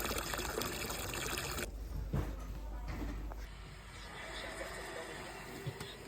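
Water trickles and pours steadily into a horse's water bucket in a stable, a continuous close splashing fill with a few small knocks, no talking.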